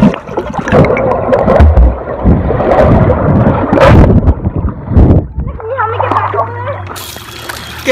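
Splashing and churning water as people jump into a swimming pool, loud and close with wind buffeting the microphone, followed by calmer water movement and voices nearby.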